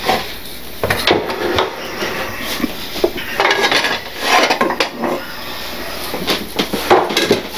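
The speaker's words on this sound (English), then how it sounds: "I'm just going to take out a plate because we got to have something to put them on" A plate is taken out in a kitchen while chocolate pancakes are made, with a burst of clattering dishes and knocks of wood and cutlery, loud and close.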